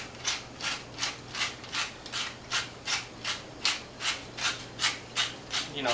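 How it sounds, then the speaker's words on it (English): A pepper mill grinds pepper in a steady run of about fifteen rhythmic crunching twists, evenly spaced and close, over a low background hum with no talking. "probably 10, 15 grinds of pepper"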